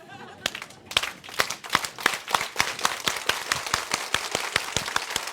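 Oriflame audience clapping at a Global Leadership Council 2020 event, a dense run of sharp claps that grows steadily into full, close applause with crisp overlapping hand strikes.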